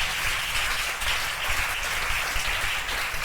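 A church congregation at a communion service applauding steadily, a dense wash of clapping hands filling the room throughout with no pause.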